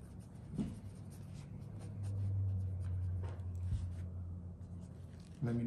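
A student writing answers on paper during an assessment, steady soft pen-on-paper scratching with a few light taps, close and faint under a low background hum.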